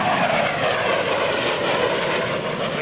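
F/A-18C Hornet jet performing a carrier brake at an airshow at NAS Oceana, a loud, steady, broadband engine roar sustained without pause, close and dominant.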